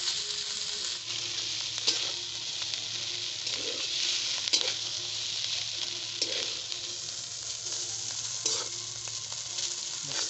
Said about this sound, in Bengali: এখন আমি খুব ভালো করে ভেজে নেব।